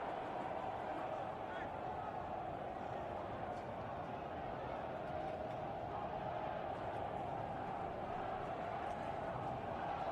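Rugby stadium crowd at a Harlequins versus London Irish Premiership match, a steady, dense roar of many voices sustained evenly throughout, with no clear chant rhythm standing out.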